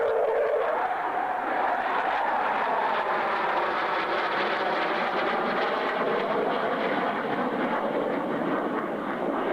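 An F-111 military jet flies overhead, a loud, steady broadband roar that holds for the whole stretch, with faint sweeping tonal whine riding the rush.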